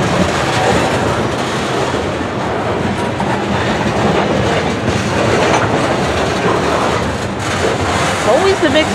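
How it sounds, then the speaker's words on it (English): A slow-moving mixed freight train rolls by in Brunswick, Maryland, steadily with a dense rumble and faint rhythmic clatter of wheels, continuous and fairly loud throughout. "Trains here are always slow moving through this area."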